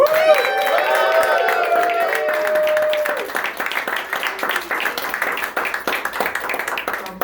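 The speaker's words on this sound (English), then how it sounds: "please give a big round of applause to Pete Hanna for hosting" At a Washington DC meet and greet for Brian Sims, a crowd whoops and cheers loudly over clapping for the first few seconds, then the cheers fade and crisp, scattered applause continues alone.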